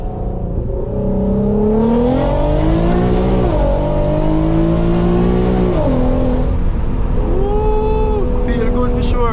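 A lowered car on Megan Racing coilovers downshifting and accelerating, the engine note sweeping up and dropping through several gear changes, loud and close throughout.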